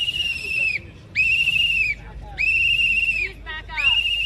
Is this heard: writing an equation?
no